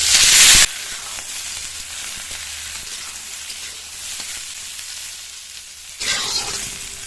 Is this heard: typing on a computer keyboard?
no